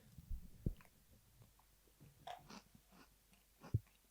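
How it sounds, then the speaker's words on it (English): A crunchy Halloween treat taken from a teaspoon is chewed in a few distinct, fairly quiet crunches spread across the moment, with short pauses of near silence between bites. "I don't know why that crunched so much."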